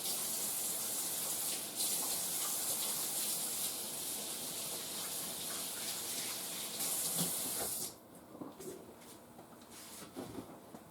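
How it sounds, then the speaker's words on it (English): A kitchen tap runs steadily as hands are rinsed under it after seasoning a whole chicken with herbs, a broad constant gush that cuts off near the end, leaving a few small drips and clatters. "let me rinse my hands before I go any further"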